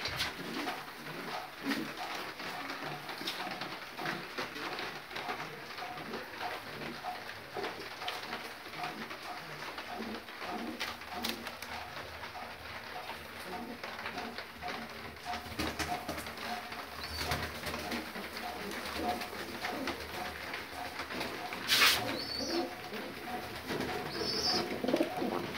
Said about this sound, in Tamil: இந்த புறா மிக அற்புதமானது.